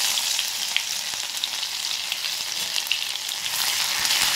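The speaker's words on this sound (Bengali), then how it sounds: "তেলটা গরম হয়ে গেছে বন্ধুরা, আমি তেলের মধ্যে দিয়ে দিচ্ছি প্রথমেই এই রসুন বাটা।" Garlic paste dropped into hot oil in a wok sizzles with a steady bright hiss and scattered small pops, close and fairly loud, holding evenly for a few seconds.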